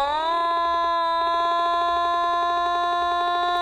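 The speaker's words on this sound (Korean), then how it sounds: "이때 볼륨을 과하게 올리면 소리가 깨지는 현상이 발생하기 때문에" An otamatone turned up to maximum volume holds a single buzzy, reedy note that breaks up into rapid crackling distortion, loud and close with no talking.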